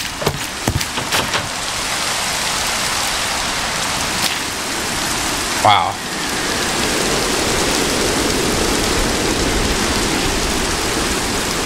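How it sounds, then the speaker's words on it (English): Continuous rainfall in Minecraft with the RLCraft modpack and shaders, a dense even hiss of drops on surfaces throughout, with a few sharp knocks early on and a brief exclamation from a voice midway. "I love when it rains with the shaders."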